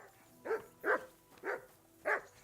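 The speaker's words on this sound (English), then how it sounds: "Henry, that barking's driving me nuts" Dog barking in the medieval role-playing game Kingdom Come: Deliverance II, four sharp close barks in a steady rhythm about half a second apart over a quiet background.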